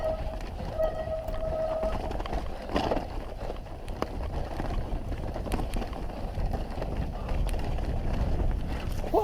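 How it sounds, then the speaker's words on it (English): Trail bike tires and suspension on a snowy trail: a steady, close rumble of rolling tires over packed snow, with occasional rattles and knocks from the suspension working over the terrain, continuous throughout. "So let's just listen to the tires and the terrain and the suspension working."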